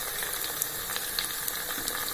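Garlic and curry leaves sautéing in hot oil, a steady close sizzle with small crackles and pops scattered throughout, no voices.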